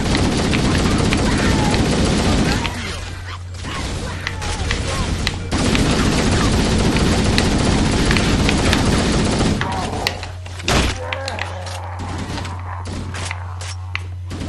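Sustained bursts of gunfire in the Halo: Combat Evolved remake, loud and continuous with dense rapid shots, a pause around the middle and game sound effects, with talk in the background.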